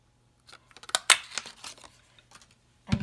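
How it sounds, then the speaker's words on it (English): A paper craft punch cutting a 1 1/8 inch scalloped circle, a series of close crisp clicks and crunches followed by a brief pause and a final sharp snap. "I'm going to cut this out with my 1 1/8 inch punch"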